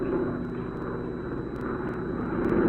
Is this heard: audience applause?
no